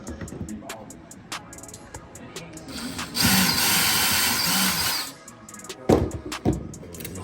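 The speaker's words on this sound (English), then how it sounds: "I'm gonna take these screws out." A power drill backs screws out of a classic Chevy car door close up, with short whirring bursts, one longer run in the middle and sharp clicks and knocks between.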